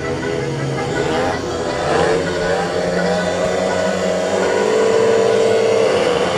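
Speedway motorcycles revving on the start line of heat six in a Plymouth vs Edinburgh championship meeting, a dense roar of several engines that swells and rises toward the end.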